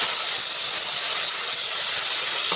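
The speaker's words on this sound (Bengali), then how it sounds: "বেগুনটাকে আমি একবারে ভেজে নেব" Eggplant pieces coated in salt and turmeric fry in hot oil with dried chilli and nigella seeds, a steady, close, loud hiss and sizzle with no pauses and no voices.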